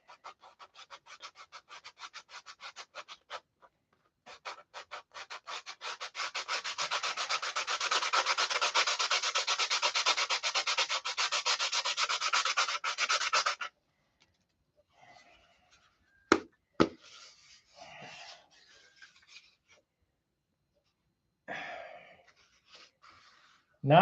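Harsh, rapid back-and-forth sanding with coarse sandpaper, a loud scratchy burst after a pause, then it stops and a few faint knocks follow.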